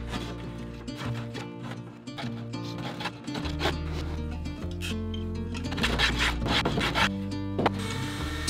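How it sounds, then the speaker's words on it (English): A hand plane works the blade of an epoxy-river wooden paddle, giving repeated scraping strokes close by over a steady tonal hum that runs underneath. "going in for finishing touches with a hand planer"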